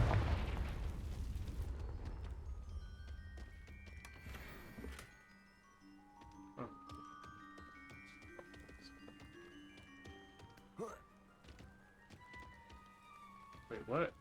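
A Confringo blasting spell goes off in Hogwarts Legacy with a loud, broad burst at the start, then fades into a quieter stretch of game music and scattered magical tones, with a few sharp hits near the end.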